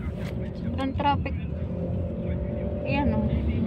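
Road traffic in Taiwan, with a steady broadband rumble of car engines and passing vehicles. Short bursts of people talking sit over the continuous background.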